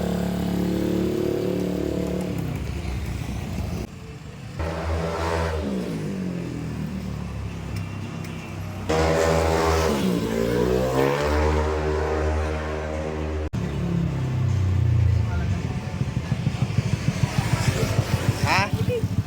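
Yamaha NMAX 220cc scooter on a test drive, its engine revving and rising in pitch through repeated accelerations, loud and close, with people talking over it at times.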